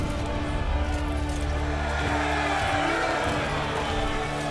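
A dense crowd of Roman soldiers roars and cheers steadily in the video game Ryse: Son of Rome, a broad wash of many voices with a low droning hum underneath.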